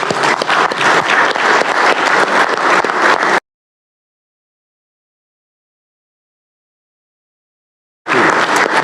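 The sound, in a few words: applause in the Alabama Senate chamber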